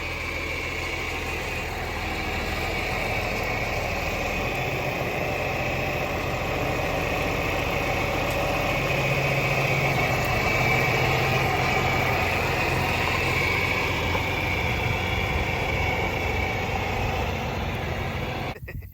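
A mobile hay machine's engine idles nearby in a steady, loud, rumbling drone that holds unbroken for the whole stretch, cutting off abruptly at the end, with no talking.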